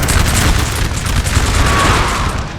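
Artillery fire in a Napoleon: Total War multiplayer battle rumbles as a dense, continuous barrage of booming cannon shots, loud and close with overlapping blasts and no pauses.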